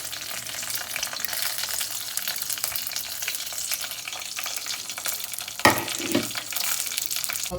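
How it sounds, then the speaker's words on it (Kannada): Moong dal and coriander seeds fry in hot oil, a steady close sizzle with light stirring scrapes throughout and a sharper clatter and burst of sizzling a little past the midpoint. "ಗೋಲ್ಡನ್ ಬ್ರೌನ್ ಆಗೋ ತನಕ ಫ್ರೈ ಮಾಡ್ಕೊಂಡಿದ್ದೀನಿ."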